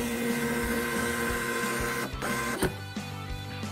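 A Cameleon CK 710 thermal receipt printer runs its self-test print, giving a close, continuous mechanical whirring buzz that stutters into short bursts and stops near the end.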